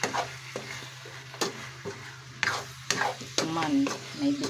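Carrots and sliced hotdog sizzle in a frying pan while a utensil stirs them, with repeated scraping strokes at an uneven rhythm over a steady hiss, close and moderately loud.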